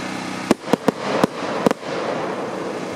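A 49-shot firework cake fires a series of sharp cracking bursts at irregular intervals over a steady hissing background, loud and fairly close.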